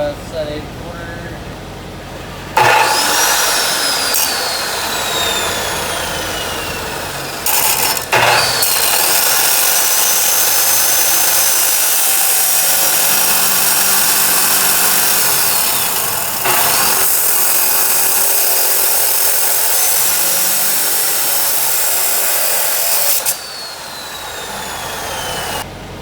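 A power saw set to 8 1/4 cuts material for a trailer repair, a loud sustained whine that runs for long stretches, with brief pauses and shifts in pitch as the blade bites.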